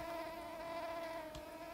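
A steady, low buzzing of bees in the video game Don't Starve drones on without pause, quiet and even, with no voices.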